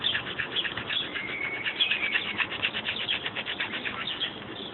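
Birds at a backyard feeder flap their wings in quick, fluttering bursts, with a few thin chirps mixed in, heard steadily at moderate distance outdoors.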